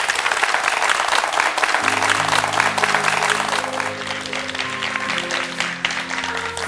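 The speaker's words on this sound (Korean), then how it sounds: "한신영 자매님께 다시 한번 큰 박수 부탁드립니다" Loud, sustained applause from a church audience at a Korean Christian testimony broadcast, dense clapping throughout while sustained musical tones enter beneath it partway through.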